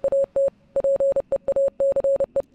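A Morse code signal comes over the radio in Oxenfree, a loud, steady pure beep pulsed in quick dots and longer dashes with short gaps, alone without voices.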